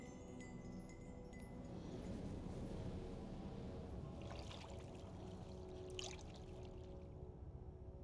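Water pours in a steady, continuous rushing stream in the video game Brothers: A Tale of Two Sons, a soft, even wash of sound that holds for several seconds with no talk over it.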